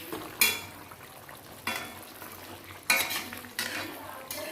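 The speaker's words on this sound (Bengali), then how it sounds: "মাছগুলো এবার দিয়ে দেওয়া হচ্ছে" Pangas and tangra fish going into a pan of Bengali macher jhal, with a few loud, spaced scraping and clattering strokes of a utensil over a soft, steady sizzle, heard up close and without speech.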